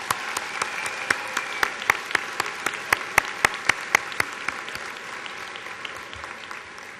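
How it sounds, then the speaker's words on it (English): Applause at a Cheltenham High School graduation ceremony for the class of 2010, as the audience claps for the graduates with sharp individual claps standing out over a steady background of clapping. "Let's give these young adults a fine round of applause"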